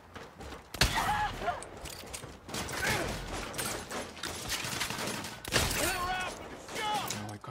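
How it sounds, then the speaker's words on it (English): Gunfire in the Saints Row video game, bursts of shots and mechanical clatter loud throughout, with game voices and effects mixed in. "Quit shooting me."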